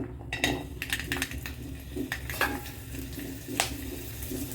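Garlic sautés in oil in a pan, giving a continuous sizzle under repeated scraping and clinking from a spatula being stirred against the pan.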